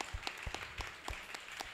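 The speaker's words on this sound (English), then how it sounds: "Big round of applause for everybody." Audience applause at the end of a talk, a small group clapping in quick irregular bursts, faint and somewhat distant, lasting under two seconds.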